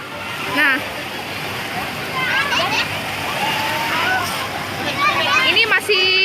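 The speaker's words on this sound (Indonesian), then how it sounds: "tadi ombaknya masih terus, belum berhenti." Waves in the wave pool at Tektona Waterpark in Kampung Batu make a steady rush of splashing water, with children's voices and chatter rising over the continuous wash.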